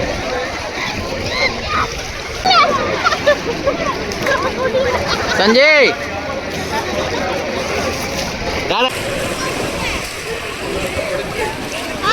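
Water splashing and sloshing as pilgrims bathe in sacred temple water at Rameswaram, irregular splashes with a hubbub of voices throughout and people talking nearby.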